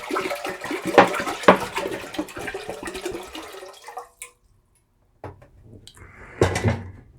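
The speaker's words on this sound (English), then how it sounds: "the remaining water, we're just going to go ahead and pour that into our pot" Water is poured into a pot while making dark cherry mead. It gives a rushing, splashing stream with a few knocks before it cuts off into near silence, then one more short splash and clatter.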